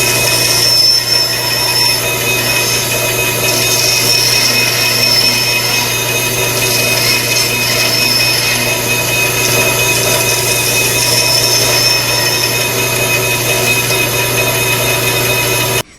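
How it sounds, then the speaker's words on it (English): A Dremel rotary tool shapes a wooden bowl, a loud steady high-pitched whine with a constant motor drone running unbroken throughout. "Now I use the Dremel tool"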